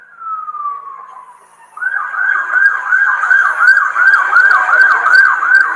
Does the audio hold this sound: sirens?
yes